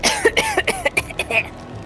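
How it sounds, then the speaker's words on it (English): A rapid fit of coughing, about eight harsh close-up coughs in quick succession, tapering off at the end. "before being overcome with coughing"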